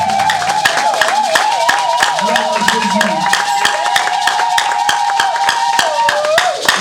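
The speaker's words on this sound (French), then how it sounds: "Je veux une acclamation qui est costaud." A church congregation claps rhythmically and cheers loudly, with a steady beat of hand claps under a sustained singing or chanting voice and crowd noise throughout.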